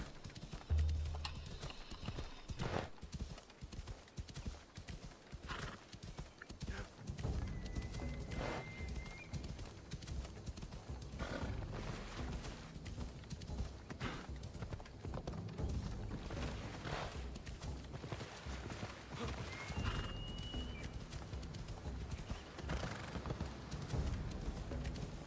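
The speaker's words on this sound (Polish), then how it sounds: "Jezu, jak ten koń wolno tutaj idzie, nie?" A horse in Assassin's Creed Odyssey walks slowly, its hooves clopping in a steady plodding rhythm, close and continuous, with an occasional snort or whinny and faint ambient game sound behind.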